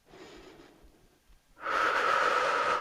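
A loud, broadband breath rushing out for about a second during a beginner leg-toning exercise of lowering toward the floor and rising back up, following a softer, fainter inhale.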